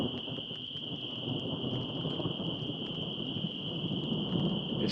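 Thunder during a storm over a campsite, a low continuous rumble rolling overhead with rain-like hiss and a steady high tone, fairly quiet and even throughout.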